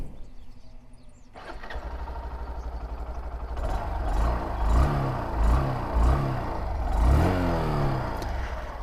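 A Honda Shine 100 motorcycle engine cranks and catches, then settles into a steady idle with a few throttle blips rising and falling, close by and fairly quiet.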